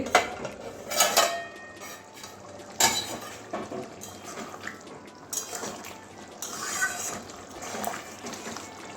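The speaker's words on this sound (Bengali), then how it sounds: "এবারে ঢাকনাটা খুলছি" A lid lifted off a cooking pot of potato and pointed gourd curry with yogurt, giving a few metallic clanks and scrapes amid faint bubbling and kitchen clatter, close and moderately loud, with no talking.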